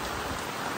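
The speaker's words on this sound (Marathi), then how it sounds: "पावसानं अचानक सुरुवात केलं ना" Sudden rain pours down steadily in the Konkan countryside, a dense, continuous hiss of drops striking surfaces with no pauses and no voices.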